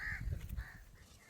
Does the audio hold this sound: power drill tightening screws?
no